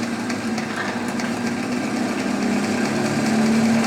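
Distributor test stand spinning a distributor at 450 RPM, a steady mechanical whir with a constant motor hum, close and even throughout, with no talk.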